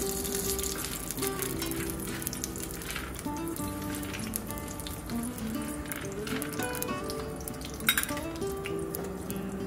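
Whole spices such as bay leaf crackling in hot oil for Nagpuri-style masala rice, a quiet continuous sizzle with light clinks of a utensil against the pot and no talking.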